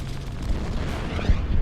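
Rumbling low booms of artillery fire hitting a Katyusha rocket launcher in the Winter War strategy game Order of Battle roll out in one dense, sustained burst.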